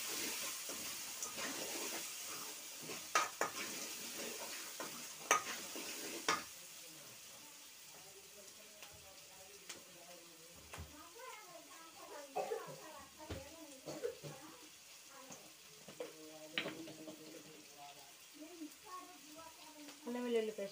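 Eggplant and bean curry being stirred in a pan: soft hissing sizzle with scraping and clinking of a spoon against the pan, intermittent and fairly quiet, with occasional louder knocks near the start.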